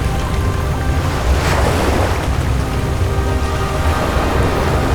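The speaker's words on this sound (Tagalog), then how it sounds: "Gumawa ka ng daluyong at lunurin mo ako." Ocean waves surge in a steady, loud wash of surf with wind-like roar, a continuous dense rush with a slight swell in the middle and no voices.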